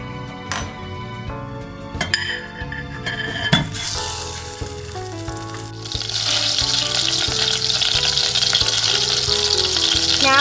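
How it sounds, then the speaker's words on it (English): Two tablespoons of butter melt in a pan for a berry sauce. A few clinks and soft hissing build into a loud, continuous sizzle that fills the second half, with no voices. "First, we put in the butter."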